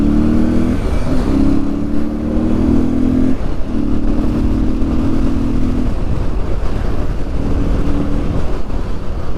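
A motorcycle engine runs steadily under riding wind and road rumble, with a low droning tone that rises and dips in pitch a few times, close and continuous throughout, with no voices.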